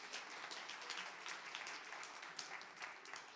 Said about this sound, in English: So a big applause to her and welcome to her.